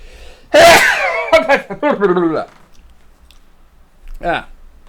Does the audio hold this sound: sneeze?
yes